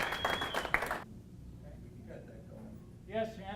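Applause from a meeting audience, a short burst of brisk clapping lasting about a second before fading, followed by voices talking.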